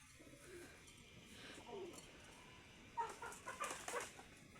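Soft pigeon calls, low coos and a few clucks, likely with nearby roosters, drift over a faint background murmur, with a busier cluster of calls near the end.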